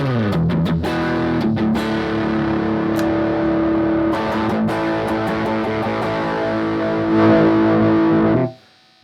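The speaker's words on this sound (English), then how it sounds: "this is now overdrive." Overdriven electric guitar through a Roland Mobile Cube amp's overdrive setting, playing sustained, gritty distorted chords and notes, loud and continuous, cutting off abruptly at the end.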